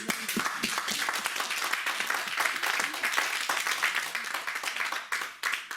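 A church congregation applauding during a worship service, steady dense clapping from many hands, lively and sustained throughout with no pauses, some faint voices mixed into the crowd.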